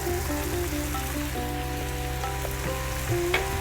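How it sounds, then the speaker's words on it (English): Onion frying in a pan alongside browned lamb pieces, a steady close sizzle and crackle with a low hum beneath, no voices. "We're now going to drop in that 1 cup of onion."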